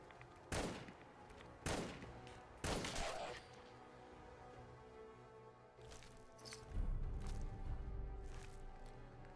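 Rifle gunfire from the video game Fallout 4: three loud, sharp shots about a second apart, followed by fainter, more distant shots and a low rumble.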